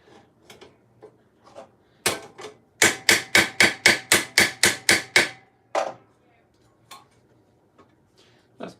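A rivet is hammered on armour being made in a garage: a few scattered light taps, then a rapid run of about ten loud, evenly spaced metallic blows close by, followed by a couple more isolated strikes and quiet handling.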